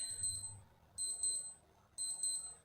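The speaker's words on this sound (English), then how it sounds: "press and hold the reset button, okay, and you will hear this alarm sound check." A Casio MWD-110H wristwatch running its alarm sound check, giving three short bursts of rapid high-pitched electronic beeping about one second apart, each burst a quick trill of tones heard up close in a quiet room.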